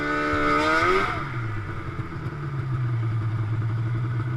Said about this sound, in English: with a tug and some throttle, maybe I can get out of here